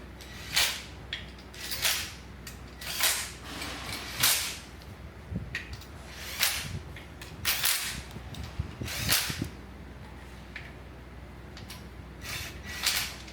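Sharp, close ratchet clicks and snaps sound in repeated bursts about every second as journal cap bolts on a Maserati engine are tightened in a repair shop. No speech.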